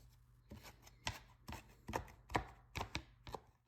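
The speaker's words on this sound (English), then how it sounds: "Then I mince fresh parsley." Knife chopping fresh parsley on a cutting board for Italian flank steak rolls, about eight crisp, evenly spaced chops close up over a low steady hum.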